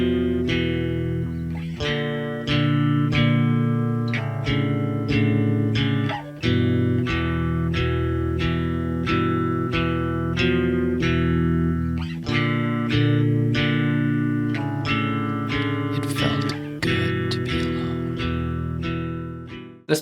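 Math rock guitar band plays dissonant, distorted guitar figures over drums in an odd meter, with a steady loud full-band texture and regular accented hits throughout, no talking.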